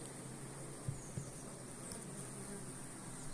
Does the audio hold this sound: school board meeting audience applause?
no